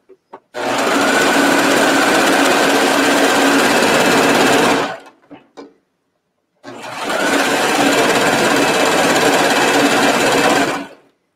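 A serger overlock sewing machine stitches pajama pant fabric in two loud, steady runs of rapid mechanical whirring. A short pause separates the runs, and no one talks.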